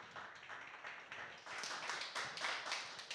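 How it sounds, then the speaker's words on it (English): An audience at a finance talk claps briefly and faintly, a soft patter of hands that swells slightly toward the end, with no one speaking over it. "Can you please give Lily Leo a clap"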